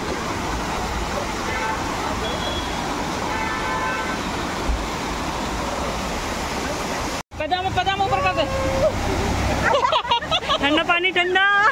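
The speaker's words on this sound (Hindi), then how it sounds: "यहाँ हमें बीच रास्ते में एक वाटरफॉल दिखा" A roadside waterfall near Nainital pours steadily as a broad, loud wash of rushing water, with people talking and shouting over it in the second half.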